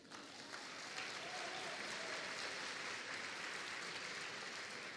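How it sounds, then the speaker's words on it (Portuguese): A church congregation at a gospel service breaks into sustained applause, a dense wash of clapping swelling in and holding steady, heard faintly and from some distance. "Vamos aplaudir, amados."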